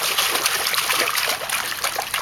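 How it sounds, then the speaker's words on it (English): A child kicks her feet in water, making a continuous close splashing and trickling wash with repeated small surges. "Yeah, that splash with the feet seems to work."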